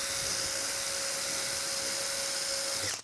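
A power drill enlarges a hole while installing additional ballast weight on a VRS 16, giving a steady, loud, high-pitched whine that holds for about three seconds before tapering off.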